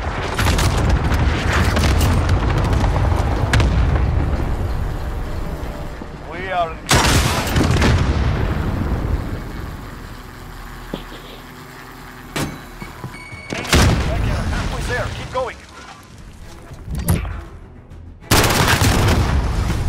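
Cluster strike explosions in the war strategy game Headquarters: a long roaring barrage that fades out, then several separate heavy booms land at intervals amid quieter battlefield rumble.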